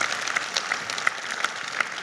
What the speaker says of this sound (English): If we could please just a quick round of applause for those farmers.